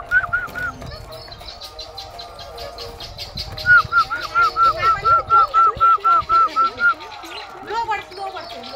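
Parrots call in a home setting, a run of about a dozen short, evenly spaced, fairly loud squawks over several seconds, with people talking around them.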